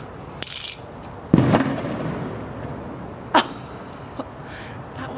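Fireworks going off outdoors at dusk beside a home garden, a few sharp separate bangs and crackles spread over several seconds, some loud and near, others fainter, with quiet pauses between.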